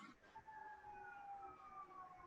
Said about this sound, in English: Oh, can you hear the ambulance?